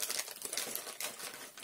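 A plastic bag crinkles and rustles continuously as electrical relays are packed away into it, close and soft with no talking.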